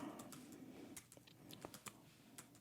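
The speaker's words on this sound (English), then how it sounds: "Oh, I can't type very well." Fingers type on a computer keyboard in quick, uneven bursts of close, crisp key clicks with brief pauses between runs, no voice over them.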